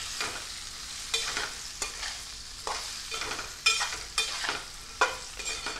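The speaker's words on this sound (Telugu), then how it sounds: "ఆలుగడ్డలు వేసుకొని ఒకసారి కలుపుకుందాం" A spatula stirs thinly sliced potatoes through hot oil in a pan, with a soft sizzle under a series of regular scraping strokes, roughly one every second, close and fairly quiet, with no talking.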